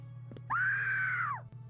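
A stock sound effect of a woman screaming: one loud, sustained high-pitched scream of about a second, rising sharply and then trailing off, with a faint background hum.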